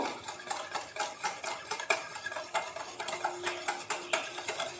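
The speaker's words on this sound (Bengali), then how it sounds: "হ্যান্ড বিটারের সাহায্যে এটাকে আমি একটু ফেটিয়ে নেব।" Sour yogurt being beaten with a hand beater in a bowl, giving rapid rhythmic clinking and whisking strokes that repeat several times a second, close up and with no talking.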